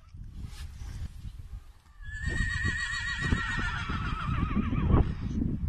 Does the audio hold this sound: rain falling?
no